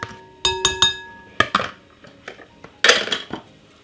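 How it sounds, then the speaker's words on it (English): Utensil scraping rice from a pot into a bowl, several sharp metallic clinks and scrapes in quick bursts, close and fairly loud with short pauses between. "Scrape the rice straight inside of the bowl like this."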